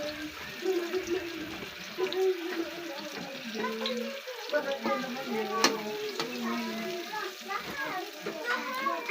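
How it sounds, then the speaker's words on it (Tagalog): Food bubbles and sizzles in a pot at a steady simmer, with voices chatting in the background throughout. "kumukulo na po siya"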